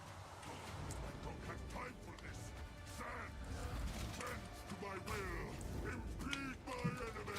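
A cartoonish duck quack from a character emote in a video game sounds over busy game effects, with people talking throughout.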